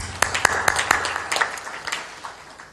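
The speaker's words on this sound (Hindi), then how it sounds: "ताली बजा दे इनके लिए" Scattered audience clapping at a satsang gathering, a few sharp claps standing out from a loose, moderate patter that thins toward the end.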